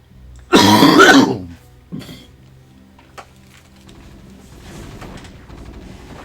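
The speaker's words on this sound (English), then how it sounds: "Yeah, recovering from a little cold with the coughs" A person with a cold gives one harsh, loud cough and throat-clearing burst, then a shorter rasp and a faint click, followed by quiet room noise and low background sound.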